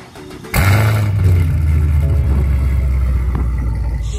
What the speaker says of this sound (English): Oh, I forget how loud this car is.